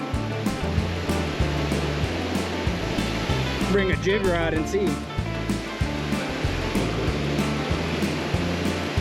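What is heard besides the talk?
creek waterfall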